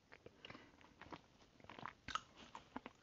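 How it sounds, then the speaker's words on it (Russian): Clay is bitten and chewed close to the microphone, giving a series of crisp, irregular crunches and soft mastication sounds in a quiet ASMR setting, with no talking. "Я только что проглотила глину,"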